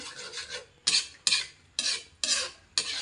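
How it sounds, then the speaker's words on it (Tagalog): Egg being stirred into soup cooking in a pot, a steady rhythmic scraping of a utensil against the pot in close, repeated strokes about twice a second, with no talking. "habang hindi pa luto yung egg, haluin natin"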